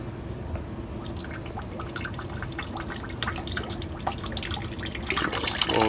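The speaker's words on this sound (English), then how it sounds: "Okay, so we just crack the bypass valve and let some water out." Water trickling and dripping from a cracked-open bypass valve on a Whirlpool water softener, close irregular drips and splashes over a steady low rush that grows a little louder toward the end.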